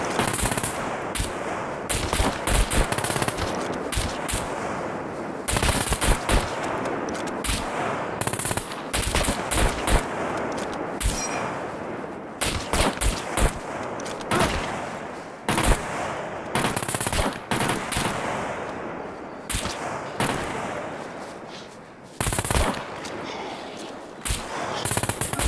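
Rapid machine-gun bursts and single gunshots crackle loud and near throughout a multiplayer firefight in the survival game SCUM, with brief pauses between volleys and occasional voices underneath.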